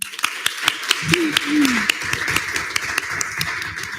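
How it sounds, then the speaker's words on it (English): Audience applause at a student government senate meeting, scattered sharp claps building into a steady round at close range, with a voice talking briefly partway through. "So give a round of applause for Chair Bourne."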